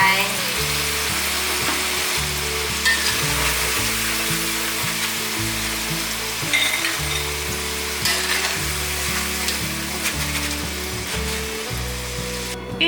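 Pieces of taro deep-frying in oil in a wok for a Malaysian steamed taro cake give a steady, close crackling sizzle with occasional louder pops and stirring scrapes, running continuously with no talking.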